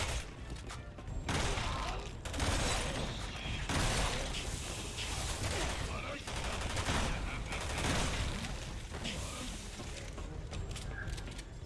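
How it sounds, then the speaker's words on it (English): Enemies open fire from behind in Resident Evil 6, producing a sustained, dense barrage of gunshots mixed with crashes and mechanical game noise throughout. "They're shooting at me from behind."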